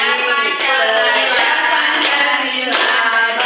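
During the Indonesian Tepuk profil pelajar Pancasila routine, a voice sings the chant while hand claps land at spaced, regular beats, close and loud under the singing.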